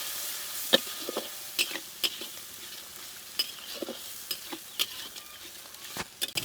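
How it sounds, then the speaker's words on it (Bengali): Spice masala with chilli powder, turmeric, salt and a splash of water being fried and stirred in a pan for a dried loitta fish bhuna, a quiet hiss under sharp intermittent spatula scrapes and taps. "এখন মশলাটাকে ভালো করে কষিয়ে নেব"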